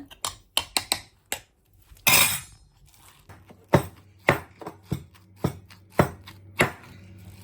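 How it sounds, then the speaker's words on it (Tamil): Coconut sambal being pounded in a mortar, Jaffna style, with a steady series of sharp, close thuds at an uneven rhythm of roughly one or two per second, plus a brief rustling scrape in between. "இந்த தேங்காய் பூ சேர்த்து சம்பல் நல்லாவே இடி விட்டுட்டு"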